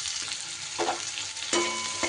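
Chopped onion sizzles in hot oil left from frying potato pieces, a steady bright crackle with a few soft stirring scrapes and louder bursts as the pan is moved.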